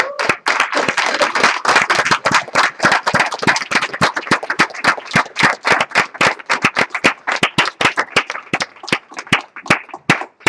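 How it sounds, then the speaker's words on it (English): Audience claps for Miss Erica Yancey at a Sunday training session, loud, sharp individual hand claps in a fast, uneven rhythm, close by and distinct rather than a blended roar. "give the biggest round of applause"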